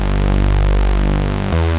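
Reese bass patch in Serum, oscillator A set to seven unison voices with detune, a loud sustained low tone with slow phasing wobble, shifting to a denser tone near the end before cutting off, no voices.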